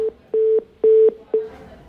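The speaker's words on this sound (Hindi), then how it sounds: "तो भरत का फोन कट गया है" A phone line dropping during a call, giving a loud, clean busy tone: four even beeps with short gaps between them, alone and near.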